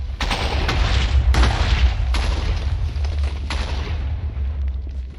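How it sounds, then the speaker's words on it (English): Minecraft TNT blows up in a series of four or five booming blasts about a second apart, loud and rumbling, fading into a low, lingering roar. "It is completely normal for the TNT to stop exploding like that."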